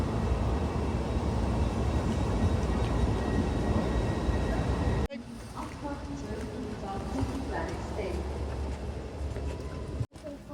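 A near-bullet-style train pulls into a station with a loud, steady rumbling roar that suddenly drops to a quieter, busy platform hum, and voices are faintly present.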